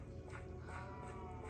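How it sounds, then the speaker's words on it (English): Minecraft sheep in a farm animal zoo exhibit giving a few soft, faint bleats over a low steady background hum. "Got the sheep exhibit."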